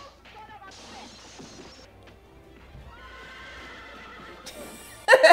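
A horse neighing in the 1974 Western comedy film Blazing Saddles, a loud whinny with clip-clop hoofbeats, followed near the end by a sudden loud crash.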